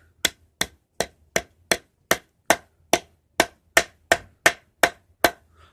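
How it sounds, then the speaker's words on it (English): Staples being hammered down with a pair of clippers used as a makeshift hammer: about fourteen sharp, evenly spaced metallic strikes in a quick, steady rhythm, close by with quiet gaps between blows. "I'm practically hammering this shit with a pair of clippers"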